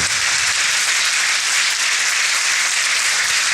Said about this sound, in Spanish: Dale un aplauso a nuestro Dios eterno y santo.